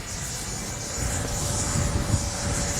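A steady, roaring turbine whine from a radio-controlled model MiG-29 jet with an 80mm ducted fan passing overhead, loud and continuous with a slight swell partway through, no voices.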